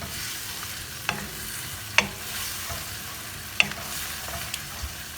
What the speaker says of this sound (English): Stir fry turmeric beef